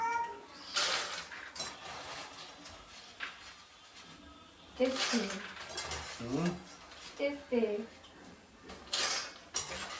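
Cooked sabudana is scooped from a cooking pot into a bowl with a metal utensil, giving scattered clinks and scrapes of metal on metal, some louder than others, while a person talks briefly.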